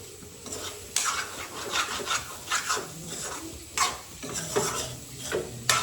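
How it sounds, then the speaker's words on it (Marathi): Kaleji (liver) tipped into a hot pan and cooking, with repeated scraping and stirring strokes against the metal and a faint sizzle running underneath, some strokes louder and sharper than others. "आता ओततालाय कलेजी"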